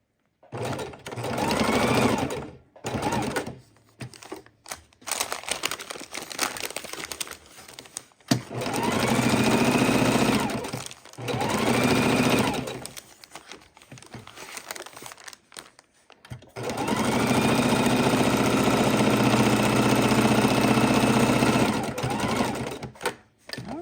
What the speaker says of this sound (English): So now we've sewn around everything.